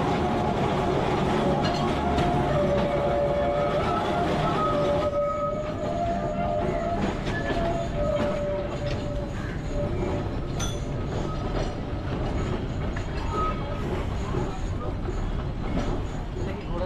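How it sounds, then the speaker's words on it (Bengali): A Kolkata tram rolls into the Shyambazar tram depot with a continuous heavy rumble of wheels on rail. Steady metallic tones and faint squeals run over it, and the mechanical din stays loud throughout. "বা শ্যামবাজার ট্রাম ডিপোয় ঢুকছি।"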